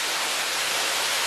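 Waterfall in a rainforest at Burleigh Heads, Queensland, pouring as a steady, dense broadband rush of falling water, close and continuous with no voices over it.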